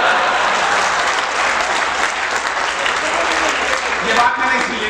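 Audience applause fills a Haryanvi poetry recital, a dense, steady wash of clapping from a crowd that holds strong throughout with only slight swells, no voice standing out above it.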